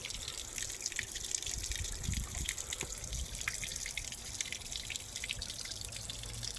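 A small waterfall in a backyard nature pond fed by a pump, a close, continuous trickle with splashing and dripping, steady and moderately quiet throughout, with no talking.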